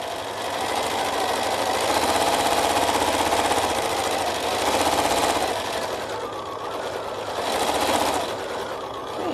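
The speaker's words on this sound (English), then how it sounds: "I am just going to sew right off of it" A sewing machine stippling a quilt runs loud and close as a continuous buzzing whir, surging and easing slightly in speed across the stretch, with no one talking.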